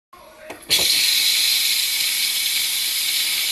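A pressure cooker releasing steam for mashed potatoes: a couple of faint clicks, then a loud, steady hiss that starts abruptly and keeps going until it cuts off.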